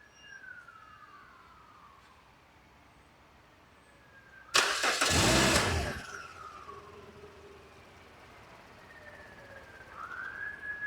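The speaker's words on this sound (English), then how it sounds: "We're going to start our car from over here." A car engine cranks and catches with a loud burst lasting just over a second, using a BS ONE 700A portable jump starter, then settles into a quiet idle with faint passing siren-like tones in the background.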